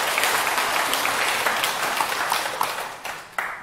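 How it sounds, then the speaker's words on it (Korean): Audience applause at a Buddhist monk's Dharma lecture hall, a steady wash of many hands clapping that stays loud and even, then thins toward the end with a few scattered claps. "박수 한번 부탁드립니다."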